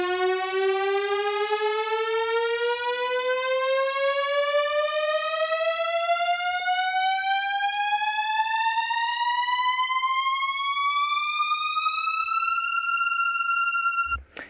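A synthesized riser for a house music track sweeps steadily upward in pitch for about fourteen seconds, bright and buzzy with rich harmonics, building tension before it levels off near the top and cuts abruptly.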